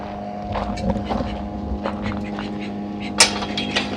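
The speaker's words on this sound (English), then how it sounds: "right now we got our sump pump, we're pumping it out" Sump pump steadily humming as it pumps water out of a small backyard duck pond, a constant low drone with outdoor wind noise and a few sharp splashes or knocks near the end.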